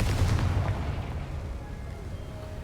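A booming blast from a Confringo fire spell in the video game Hogwarts Legacy, a loud low explosion at the start that rumbles and fades over a couple of seconds.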